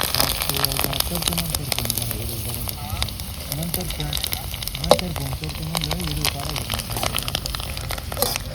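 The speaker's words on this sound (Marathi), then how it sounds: "आपल्या बोब्या तळायचं चाललंय बघा. मस्तपैकी बोब्या तळून घेते आहे." Bombay duck fish sizzle steadily in hot oil close by, with scattered pops and crackles, while a person talks over the frying.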